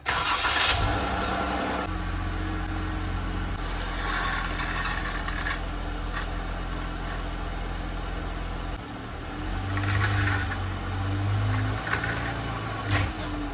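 A sports car engine idles and revs as it is driven slowly up onto wooden boards, a steady mid-pitched engine drone with a couple of throttle swells, close by, with no voices.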